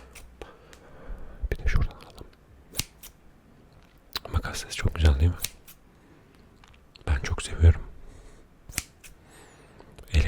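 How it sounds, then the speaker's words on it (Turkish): Sharp scissor snips come in short bursts, several quick cuts at a time, close up, with soft whispering in between. "Özellikle bu makasın sesi harika."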